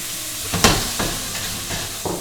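Tofu tossed into browning caramel in a wok for a vegetarian stir-fry, a steady close hiss of frying with a few brief scraping stirs and bursts of sizzle.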